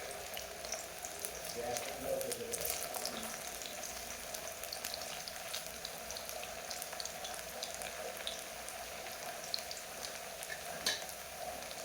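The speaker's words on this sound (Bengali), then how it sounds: "ভালোভাবে উল্টে পাল্টে ভেজে নিচ্ছি যতক্ষণ না সুন্দর একটা গোল্ডেন কালার চলে আসে।" Cauliflower pieces sizzle steadily in oil as they are turned and stirred in the pan, a soft, continuous frying hiss with occasional light scraping, fairly quiet throughout.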